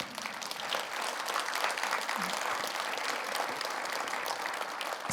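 Audience applause at a New Year's civic address, honouring doctors: steady, dense clapping that fills the whole stretch at an even level, with a brief low voice murmur partway through.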